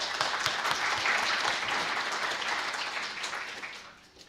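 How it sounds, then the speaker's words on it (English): Sustained audience applause fills an auditorium after a seminar talk, dense and steady throughout before thinning and fading at the very end. "And we'll give applause"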